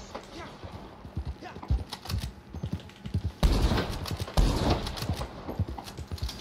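Horse hooves clip-clopping in the Red Dead Online video game, irregular quick clatters with brief bursts, heard faintly under other game noise.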